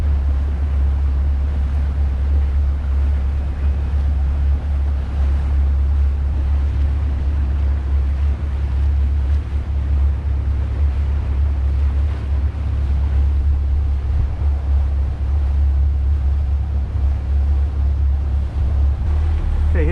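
A boat motoring over open water at 1,100 RPM and about 7 knots, with a steady low engine drone and continuous water rush and wind buffeting throughout, loud and unbroken.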